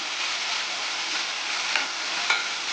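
Avalakki (flattened rice) frying in a pan, an even, steady hiss of sizzling with two faint stirring taps toward the end.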